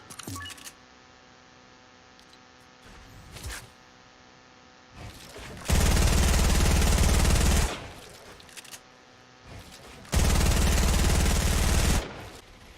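Fortnite gunfire comes in two loud, sustained bursts of rapid shots, each lasting about two seconds. Quiet gaps with faint clicks and game hum separate them.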